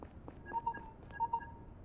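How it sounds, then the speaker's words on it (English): A phone rings in the video game Lacuna, a faint electronic tone pattern repeated twice in short double pulses. "Uh-oh. Phone call."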